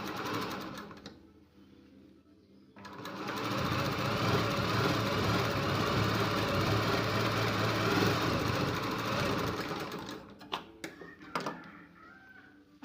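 A sewing machine stitching a cross-strip onto a blouse runs in one steady, continuous whir for about seven seconds, close and fairly loud, with quiet handling clicks before and after.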